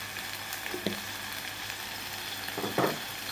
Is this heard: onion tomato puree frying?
yes